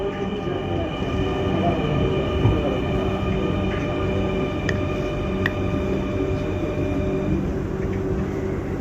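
A metro train idles at Uttara Center station with a steady, dense mechanical hum and faint tonal whine throughout, with a few brief clicks and no clear door sound.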